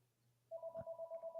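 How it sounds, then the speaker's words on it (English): Telephone ringing behind a sports podcast host, a rapid pulsing electronic ring that starts abruptly and repeats steadily, moderately loud and alone. "As the phone's ringing behind me"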